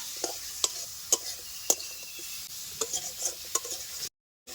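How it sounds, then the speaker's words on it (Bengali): Fried vegetables stirred into a pan of sizzling spice masala: a continuous hiss under several sharp spoon scrapes and clinks against the pan, close and without speech. "এবার আমি দিয়ে দেবো ভেজে রাখা সবজিগুলি।"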